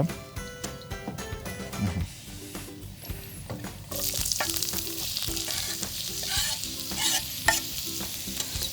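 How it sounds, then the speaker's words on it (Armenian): Ingredients for Indonesian soto ayam soup sizzle in a pan while being stirred, with scraping strokes early on and a louder steady frying hiss taking over midway. "քանի տապակվում է"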